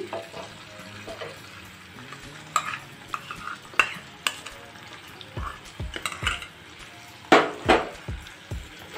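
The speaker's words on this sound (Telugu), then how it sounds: "మసాలా కారం పేస్ట్ చేసుకున్నాం కదా, వేసేస్తున్నాను।" A spoon stirs masala chili paste into an onion curry in a pan, producing scattered scraping knocks and soft sizzling, with a few sharper clanks against the metal, close and alone.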